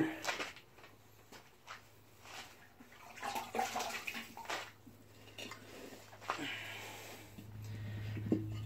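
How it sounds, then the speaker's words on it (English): Water pours into a water filter during a filter change, a quiet, uneven splashing stream with a low steady hum underneath that swells louder near the end. "I'm just putting a lot of water in it right now."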